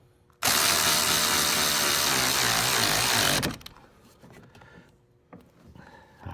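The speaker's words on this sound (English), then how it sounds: "now I've got to put these other 4 bolts in" A power tool tightens bolts on a 2007 Buick Terraza handicap lift gate motor, giving one loud buzzing burst of about three seconds before it cuts out, followed by quiet clinks and handling noises.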